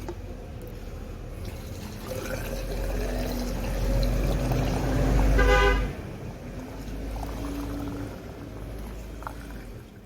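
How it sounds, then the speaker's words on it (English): Diesel pours into a vehicle's fuel tank with a steady, close gushing and gurgling that swells midway, joined briefly by a horn-like tone before settling back to a continuous trickling flow. "Let's put some more diesel."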